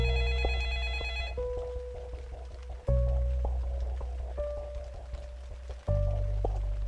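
A telephone rings in the video game Floor 13: Deep State, a repeating electronic bell in bursts that restart about every three seconds, steady and clear under a low tonal game background, with no voices.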